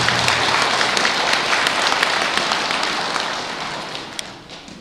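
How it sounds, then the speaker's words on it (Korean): Sustained applause from a large congregation celebrating newlyweds at a Buddhist service, a dense, even wash of many hands clapping that gradually tapers toward the end. "힘찬 축하의 박수를 부탁드립니다"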